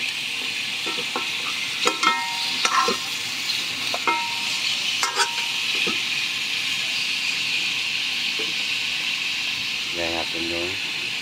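Dried fish (tuyo) sizzles in a pan under a steady frying hiss, with scattered utensil scrapes and clinks as it is stirred, and a short rising whine near the end.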